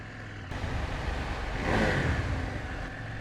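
A KTM 790 Adventure S motorcycle engine rumbles steadily, then swells louder as it accelerates midway before settling back, heard close with no talking.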